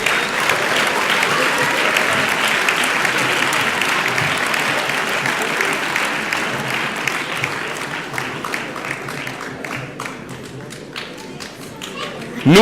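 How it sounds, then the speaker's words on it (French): A crowd applauds trophy winners at a regional sports awards ceremony, with sustained, dense clapping for about twelve seconds that thins slightly toward the end and a few louder nearby claps. "Et vous pouvez les applaudir, bien sûr."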